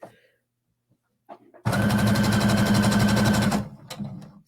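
A sewing machine runs in one steady burst of fast, even stitching for about two seconds while sewing Tristyn leggings, loud and close, with quiet handling sounds before and after.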